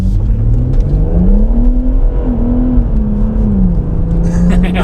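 Inside a BMW M140i, the engine pulls hard at half throttle, its note climbing, dipping briefly at a shift and climbing again in a loud, steady drone, with a voice speaking faintly over it.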